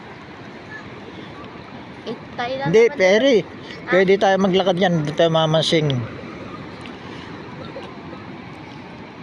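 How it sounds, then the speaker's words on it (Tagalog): Ocean waves wash steadily on a beach at Patar Beach in Bolinao, a constant roar of surf under wind noise, while people talk over it in the middle of the clip. "Lalaki ng alon, no?"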